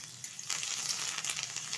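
White mustard seeds, fenugreek, hing and curry leaves hit hot oil for sambar dal: a brief burst of sizzling that jumps louder halfway through and then crackles steadily.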